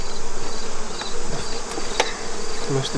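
Honeybees hum and buzz inside a crowded nuc hive box, a dense continuous drone close to the microphone with faint clicks and handling sounds.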